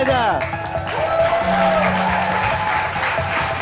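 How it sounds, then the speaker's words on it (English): Audience applause for the semifinalists at a global student startup competition final in the UK, a steady wash of clapping filling the hall as a voice speaks over it. "join me in giving these semifinalists the biggest round of applause"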